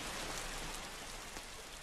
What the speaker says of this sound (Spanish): ¡Está lloviendo, chicos!